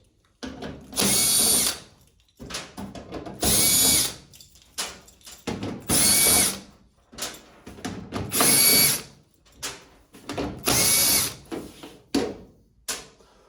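Power drill backing out the six black screws from the rear panel of a GE dryer, several separate whirring bursts with short ratcheting pauses between them, close and loud with no talking.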